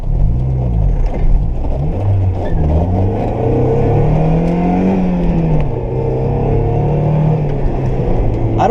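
A low-slung budget car's engine revs and pulls through the gears while driving, a loud, steady drone with rising and falling pitch sweeps heard close from inside the cabin, with no talking.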